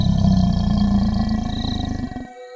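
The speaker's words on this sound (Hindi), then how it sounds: "चुड़ैल गुर्राने लगती है।" Cartoon witch growling, a loud, deep, rough roar with a buzzing, rattling texture that holds for about two seconds and then cuts off abruptly.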